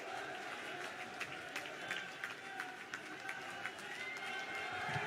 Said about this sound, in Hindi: खड़े होकर ताली बजाइए